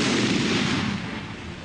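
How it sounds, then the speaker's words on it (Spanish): A landmine explodes in the Sahara, a loud, dense roar of blast noise that fills the clip and slowly eases off without any voices. "Este es el efecto de la explosión de una mina."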